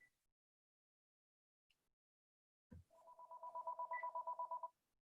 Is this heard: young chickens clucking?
no